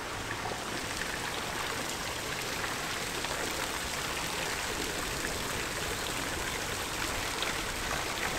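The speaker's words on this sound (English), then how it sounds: "look into this beautiful courtyard with the fountain down below" A courtyard fountain splashes below in a constant, even wash of falling water, moderately loud and unbroken, with no voices.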